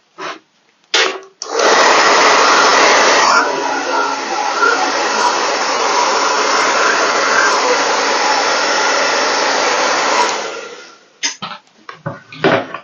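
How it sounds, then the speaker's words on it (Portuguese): Hair dryer blowing on wet paint on a craft piece, switching on after a few knocks, roaring loud and steady for about nine seconds, then cutting off into light handling clatter. "Deixa eu secar, senão vai ficar brilhando."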